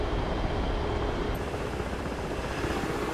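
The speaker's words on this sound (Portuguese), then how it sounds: "ainda tem um helicóptero ali que não é estático, é lógico, né? Só ver ele decolar aqui" A helicopter in the DCS flight simulator spins up to take off, a steady, dense rotor and engine roar holding at even volume throughout, with no talk.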